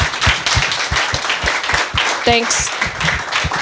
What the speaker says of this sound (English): So a big round of applause for Pierre.